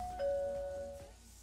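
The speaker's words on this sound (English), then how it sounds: "Wow, I love the little bell." Little bell rung to order food at a Korean BBQ restaurant in a Roblox game, a soft two-tone ding-dong chime that rings once and fades out quietly.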